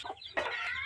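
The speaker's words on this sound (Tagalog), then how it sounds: "Dami lang manok dito, ah." Chickens clucking nearby in a short burst: a couple of brief clucks followed by a louder drawn-out squawking call, fairly close and alone without speech.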